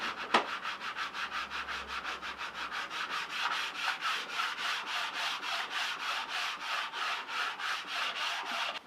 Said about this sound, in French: Là ça s'entend d'ailleurs, hein, je glisse dessus plutôt que de vraiment poncer.